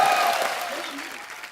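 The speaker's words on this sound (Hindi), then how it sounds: "सैमी के लिए जोरदार तालियां।" A studio audience at The Kapil Sharma Show, a TV comedy talk show, claps in a dense burst of applause that starts loud and gradually fades over a moment.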